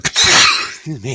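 A short, sharp sneeze bursts out at the start, followed by a person speaking briefly.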